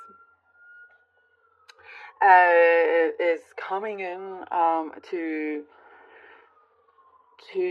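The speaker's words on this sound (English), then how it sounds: "Sorry if you can hear that siren." A faint siren wails steadily in the background, rising and falling under a woman's close, clear speech.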